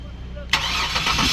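In an engine workshop, a Kia Carnival 3.3-litre six-cylinder petrol engine cranks and catches abruptly about half a second in, then holds a loud, steady idle close by.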